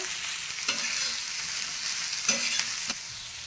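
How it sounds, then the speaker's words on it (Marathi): Onion frying with asafoetida in hot oil over high heat, a steady loud sizzle with a few scraping stirs of a spoon in the pan, close up and with no talk. "मोठ्या गॅसवरच परतून घ्यायचा कांदा चांगला मस्त परतत"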